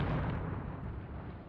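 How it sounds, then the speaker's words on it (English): Friendly artillery shells land in the WW2 game Mius Front as a heavy, rumbling burst of explosions that roars loudly and fades slightly over a second and a half. "Here our own artillery is impacting."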